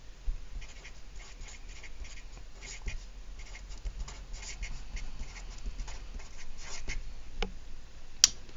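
Pen or pencil writing trig identities by hand on paper, a steady faint scratching and tapping with brief strokes and pauses, close and alone with no talk.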